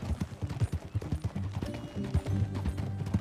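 Horse hooves clip-clopping in Red Dead Redemption 2, a brisk uneven run of close, loud thuds with brief game music under them.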